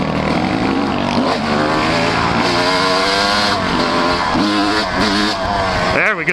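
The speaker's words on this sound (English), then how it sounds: "There we go, I got a good wheelie on it." Loud, close motorcycle engine revving hard through a wheelie on an off-road trail, a continuous rising and falling roar with engine pitch sweeps, ending in a sharp burst near the end.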